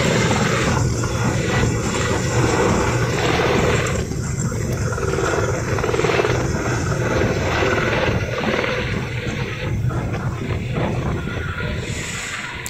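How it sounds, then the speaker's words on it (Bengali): Helicopter departing toward Jakiganj from a madrasa ground, a loud sustained rotor roar and turbine whine with rhythmic chopping pulses, steady throughout with a noisy crowd background. "আমরা এই মুহূর্তে দেখতে পাচ্ছি হেলিকপ্টারটি"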